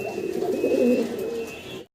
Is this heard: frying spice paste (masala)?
no